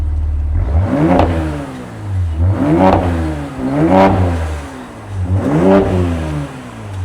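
A V6 twin-turbo car engine revs repeatedly, four rising-and-falling throttle blips with a deep, throaty growl, close and loud with no talking.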